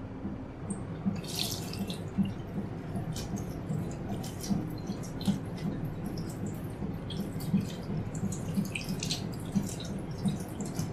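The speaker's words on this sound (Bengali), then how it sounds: "এটাকে আমি এখন একটু ভালোভাবে ধুয়ে নিচ্ছি।" Running tap water splashes steadily over a cleaned hilsa fish being rinsed in a sink, with small drips and wet squishing as the fish is handled, close and continuous throughout.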